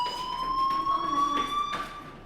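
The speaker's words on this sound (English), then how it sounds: "Hey, do you hear that fire alarm? That means you should be outside." A fire alarm in the video game Life is Strange rings out as a steady, piercing electronic tone with harmonic overtones, loud and continuous over a background hum.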